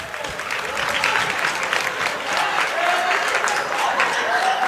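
High school basketball crowd at Rockingham County vs Southern Guilford giving a standing ovation, loud continuous applause throughout with a commentator talking faintly over it.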